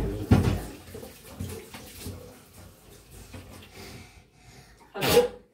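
One sharp sneeze bursts out close and loud at the start, then quieter household shuffling and water sounds follow, and a second loud burst lands near the end.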